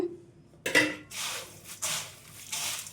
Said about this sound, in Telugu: ఈ మరమరాల మిక్చర్ని బౌల్లో వేసుకుందాం.